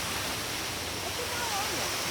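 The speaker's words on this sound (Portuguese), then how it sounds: "Olha aqui a cachoeira." A mountain waterfall near Montserrat roars in a steady, dense broadband rush that fills the scene without pause, heard fairly close.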